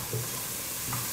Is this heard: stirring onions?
yes